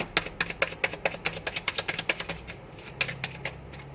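Rapid series of crisp, clicking riffles of a tarot deck being shuffled, close and steady, with a brief pause before a final flurry of snaps.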